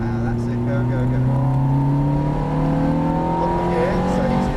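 A Ferrari F430 accelerates on the track at Brands Hatch, its engine note climbing loud and close in a sustained rising pull, while a voice talks over it.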